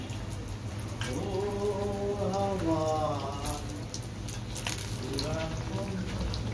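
Tel pitha, village-style fried cakes, sizzle in hot oil with a steady crackling fry throughout, while someone speaks over it in the foreground.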